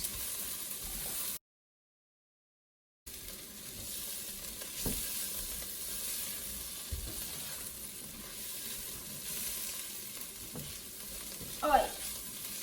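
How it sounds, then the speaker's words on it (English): Crushed garlic and onions sauté in a pot for French onion soup, a steady soft sizzle with occasional stirring scrapes, broken by a brief silent gap, with no talking. "I'm going to stir this in and saute it for about 2 minutes."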